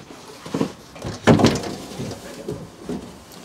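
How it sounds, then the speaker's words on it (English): Storage drawer beneath the dinette of a 2022 Cherokee Grey Wolf 26BRB travel trailer sliding out, a few short sliding and knocking bursts with a firmer clunk midway, close and clear with no talk. "Both underneath the dinettes are gonna have drawers that pull out for extra storage."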